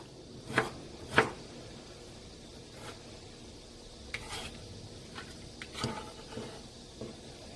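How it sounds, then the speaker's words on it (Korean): A knife cuts a peeled carrot into thin julienne strips for a stir-fried sweet potato stem side dish. Faint, scattered taps of the blade hit the cutting board at an irregular pace in a quiet kitchen. "이렇게 필러기로 삐은 당근은 이렇게 채를 썰어 줍니다"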